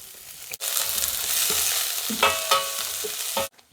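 Shallots fry in coconut oil in a pan for a Kerala taro and cassava curry, giving a steady loud sizzle with a few scraping stirs and knocks. The sizzle starts abruptly and stops abruptly, with no voices.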